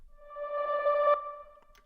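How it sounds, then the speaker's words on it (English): A reversed piano sample pitched up an octave swells in softly from nothing to a sustained bright tone, then cuts off abruptly, brief and fairly quiet with no talk. "Kind of just a reverse piano thing, and so I pitched that up an octave"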